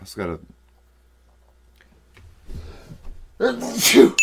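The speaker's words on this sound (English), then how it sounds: "I don't think I've sneezed in like a year" A person sneezes loudly and close, a sharp burst near the end that follows a brief inhale, with a short spoken phrase and a quick breathy sound before it.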